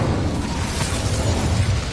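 A fire spell cast in Hogwarts Legacy bursts out as a loud, dense whoosh of flame lasting about two seconds, steady and close with no voice over it.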